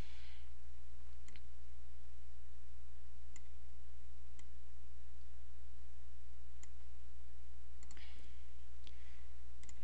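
Computer mouse clicks sound as sparse, sharp single ticks spaced irregularly over a steady low electrical hum.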